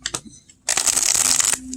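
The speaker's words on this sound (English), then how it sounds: "Because it's a Los Scarabeo tuck box, it shuffles amazing." Lo Scarabeo tarot cards from a tuck-box deck riffle-shuffled in one dense, close burst of rapid papery flicks lasting about a second, after a few soft handling taps.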